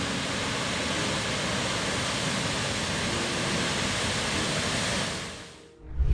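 The raging Jamuna River in Bangladesh roars as a loud, constant broadband rush of churning water while eroding its banks, then cuts off near the end into a brief low rumble.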